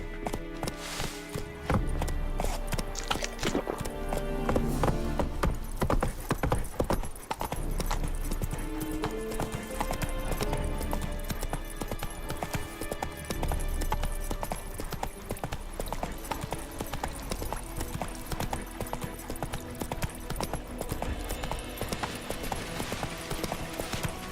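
Horse hooves clip-clop steadily at a walking pace in The Witcher 3 video game, close and continuous throughout with a faint game ambience behind them.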